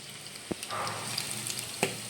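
Onions sautéing in a pan for a green peas egg masala, a steady close sizzle with a couple of sharp clicks of a spoon against the pan.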